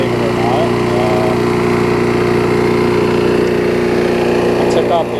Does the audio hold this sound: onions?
no